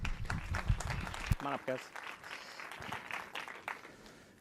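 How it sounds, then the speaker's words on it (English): Audience applause greets a conference panel at Advertising Week 2018, a burst of clapping that fades over a few seconds while someone speaks over it. "please join me in welcoming the wonderful panel for Omnichannel Strategy in a Fragmented World. Let's give them a round of applause."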